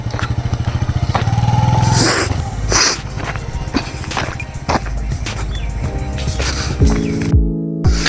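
Motorcycle engine while riding on a village road, a loud continuous close droning rumble with wind buffeting, running steadily throughout and shifting slightly toward the end.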